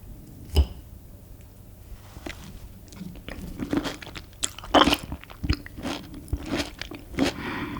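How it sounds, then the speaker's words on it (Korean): Close, intimate crunching, biting and chewing of a homemade avocado salad, with scattered crisp bites and soft squishy mastication over a quiet background and no speech. "오늘 제가 만들었던 건강하고 맛있는 아보카도 샐러드를 지금부터 맛있게 잘 먹겠습니다"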